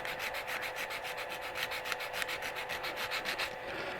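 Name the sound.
cross sanding a wooden magnifying glass on a stopped lathe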